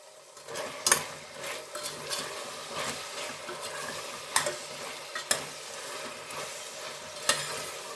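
Spices with coriander powder frying in a pressure cooker for aloo pulao, a soft continuous sizzle punctuated by several sharp scrapes and clinks of a spoon stirring against the pot.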